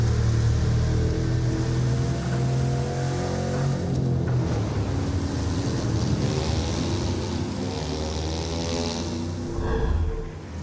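Ocean waves and a motorboat from a Ubisoft game trailer, heard as a steady, loud broadband engine roar with rushing water and splashes throughout, swelling briefly near the end.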